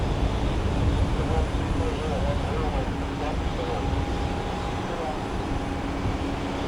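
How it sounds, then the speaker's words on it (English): A Boeing 777 airliner taxis toward the runway at Cleveland Hopkins airport, its engines a steady broad roar with a faint whining tone, holding at constant loudness throughout. "our 777 is heading over here to the runway."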